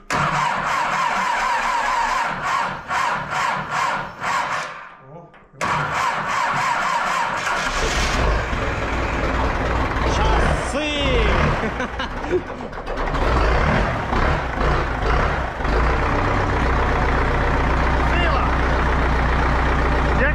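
An MTZ-80 tractor diesel engine cranks and catches, sputtering unevenly before settling into a loud, steady running rumble close by, with a brief gap early on; a person talks at moments over the noise.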